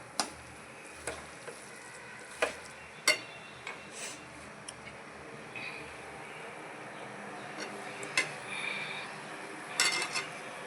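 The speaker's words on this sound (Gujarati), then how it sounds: "હવે આપણે તેને હલાવીશું ખાંડ મિક્સ કરીશું" A spoon stirs sugar into carrot halwa with mawa in a pan, producing faint, scattered metallic clinks and scrapes at irregular intervals over a low background.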